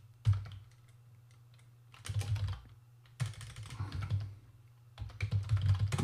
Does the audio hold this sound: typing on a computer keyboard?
yes